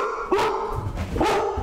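A female dog gives two sharp, close barks about a second apart, impatient to be let outside.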